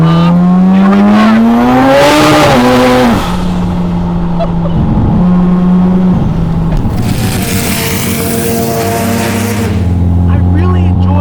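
A 730HP turbocharged 13B rotary Mazda RX7 FB accelerates hard, its engine note climbing steadily through the gears with sharp shifts between pulls, loud and close from inside the car, with a rushing burst partway through.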